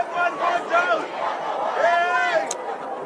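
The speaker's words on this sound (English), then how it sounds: "as you can hear from the crowd, those accents are not just Kenyans, they are Ugandan accents cheering on the Shujaa here in Harare" Ugandan fans cheer and shout from the stands at a rugby sevens match in Harare. The crowd noise is close and lively, with rising yells and chants over a continuous murmur.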